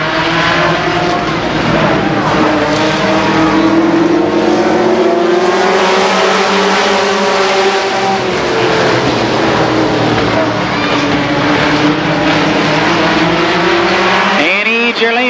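Race cars roaring around the oval at Columbus Motor Speedway in a six-car, eight-lap heat, engines droning and shifting pitch as they pass, with a tire squeal near the end and an announcer talking over the racket.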